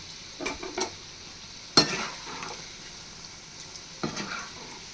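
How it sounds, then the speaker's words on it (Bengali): Tal phuluri, sweet palm fritters, deep-fry in oil over a low flame, a soft steady sizzle broken by a few sharp clinks and scrapes of a utensil in the pan. "এরকম করে লাল লাল করে ফুলুরিগুলো আমি ভেজে নেব"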